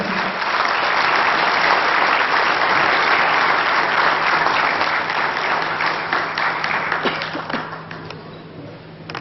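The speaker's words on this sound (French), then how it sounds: "M. Danis Jafar, Madame Nadia Jafar, que je vous demande d'applaudir, s'il vous plaît." A crowd at a petanque masters tournament in Madagascar applauds warmly, dense clapping sustained for several seconds before thinning out and tapering off near the end.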